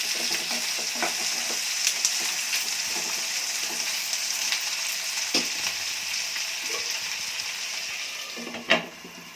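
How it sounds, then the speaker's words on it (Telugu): Potato pieces frying in oil in a pan, a dense continuous sizzle with occasional stirring scrapes and a spatula knock near the end, close and steady without speech. "ఆలు ముక్కలు వేసి కొంచెం సేపు ఒకసారి తిప్పేసి మూత పెట్టుకొని కొంచెం సేపు కుమ్మిస్తాను"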